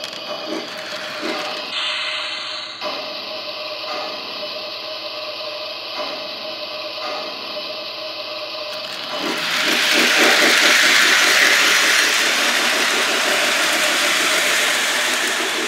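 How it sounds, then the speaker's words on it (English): A Lionel LionChief C&NW toy steam train runs on its track, giving a steady mechanical chuffing and clicking rhythm with a rail rumble that grows louder and denser partway through. "And the further you turn it, the faster the train will go."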